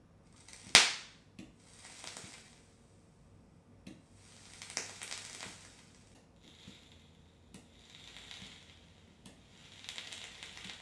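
Coils on an RDA pulsed in burn mode on a Coil Master 521 tab: one sharp loud crackling pop, then a string of shorter, fainter clicks and hissing bursts at irregular intervals.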